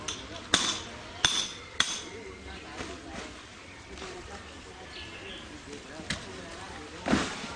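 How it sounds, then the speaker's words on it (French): Hammer blows break cables at a work site in Sassandra, Côte d'Ivoire: three sharp, evenly spaced metallic strikes up close, then lighter scattered knocks and a final clank, over faint background murmur. "Il faut casser les câbles là avec le marteau"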